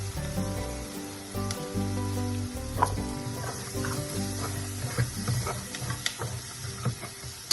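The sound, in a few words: tomatoes frying in a pan for Bengali bharta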